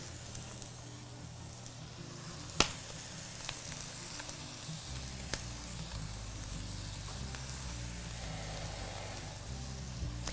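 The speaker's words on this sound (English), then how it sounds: "we're going to let it sear and get all those flavors and juices seared into that ham" Ham searing in a pan at medium-high heat with the lid ajar, giving a steady soft sizzle and hiss throughout, with one sharp clink early on and a few faint ticks.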